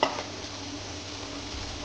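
Okra (bhindi) fries and is stirred in a hot pan, a spoon scraping sharply once at the start before a steady close sizzle continues, with no talking.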